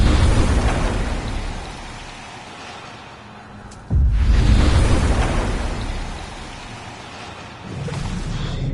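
Heavy rain and rumbling thunder of a psychic storm in the Life Is Strange video game, a loud continuous downpour with a sudden sharp thunder crack midway and another swell near the end.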